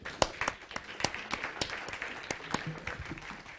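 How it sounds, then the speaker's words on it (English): Applause from a seminar audience thanking speakers from different sectors, with steady clapping throughout and a few sharper claps standing out near the front. "different sectors with a loud applause,"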